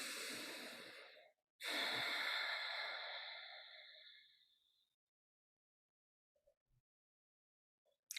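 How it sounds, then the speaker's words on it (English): Slow, deep breathing during a qigong exercise: a soft inhale, a short pause, then a long, airy exhale that gradually fades into near silence, close and alone with no talking. "let's begin, as we do, with 3 slightly deeper breaths"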